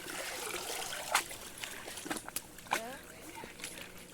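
Lake water splashes and trickles in scattered, uneven bursts as someone washes in it outdoors, the sound faint and close, with occasional brief voices mixed in.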